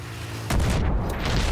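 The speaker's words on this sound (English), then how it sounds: "that was a large mine explosion" A large mine blast in Battlefield 3 multiplayer, a sudden loud boom cutting in abruptly and rumbling on with broad roaring noise to the end.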